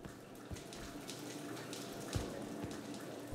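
A faint, steady hiss of shower water runs in a hospital level of a video game, from an old asylum-style shower, with a few soft knocks beneath the constant spray.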